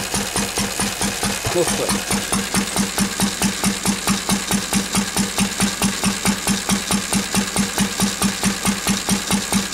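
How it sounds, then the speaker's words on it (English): A Lister D stationary donkey engine running on petrol, a loud steady chuffing beat at a brisk even rhythm with a faint knock, heard close up; someone says a word briefly over it. "But it is starting and running okay now"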